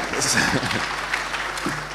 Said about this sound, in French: Vous pouvez applaudir, hein, si vous voulez.